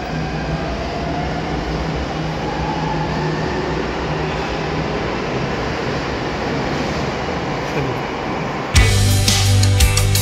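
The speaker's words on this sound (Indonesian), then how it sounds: "saat ini saya sedang berada di stasiun MRT Jakarta" A Jakarta MRT metro train rumbles steadily through a station, a continuous loud rail drone that changes abruptly near the end into a sharper, clattering passage.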